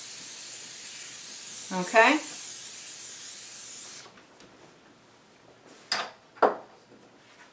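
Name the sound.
cooking spray sprayed into baking dish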